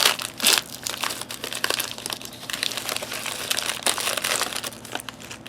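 Crinkling and tearing of a Desert Storm era MRE pouch from around 1992, close and continuous for several seconds with sharp plastic crackles and no voices.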